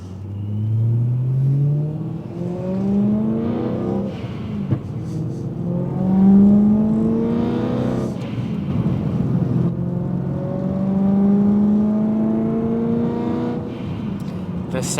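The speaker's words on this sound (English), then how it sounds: "The sound of a car," Car engine of a Mitsubishi Lancer Evo 8 being rebuilt, revving repeatedly, with rising and falling engine pitch across several close, loud pulls, and faint talk in the background.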